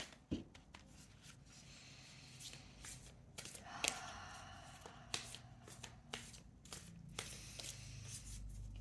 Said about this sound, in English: As I begin to shuffle the Isis deck